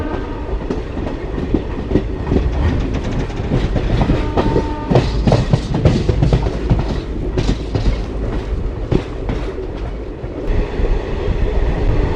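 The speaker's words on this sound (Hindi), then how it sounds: "हमारी ट्रेन मेन लाइन पे जा रही है।" Satluj Express passenger train running along the main railway line near Moga, Punjab, heard from on board: a steady loud rumble with rhythmic clickety-clack of wheels over rail joints throughout, no voices.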